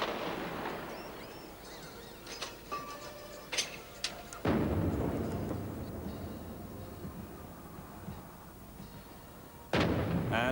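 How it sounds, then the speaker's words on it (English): Artillery guns fire a ceremonial 21-gun salute at a regimental military parade, heard as a few loud booming reports spaced seconds apart, each followed by a long rolling echo over open-air background noise. "the last shot of the 21-gun salute rang out"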